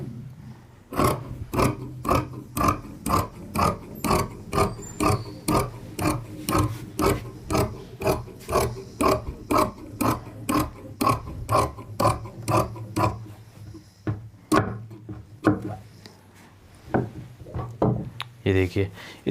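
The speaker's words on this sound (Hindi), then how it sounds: "अब हम यहाँ पे इसकी कटिंग कर लेंगे।" Scissors cutting cotton suit fabric and its lining: rhythmic, closely spaced crunchy snips repeating steadily, near and clear, with someone talking over them.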